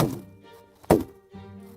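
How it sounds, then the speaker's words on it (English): A Foley popping effect for a Kung Fu Panda TV fight scene: a sharp, close pop-like thunk in the middle, framed by softer tonal hits before and after. "Or this popping sound."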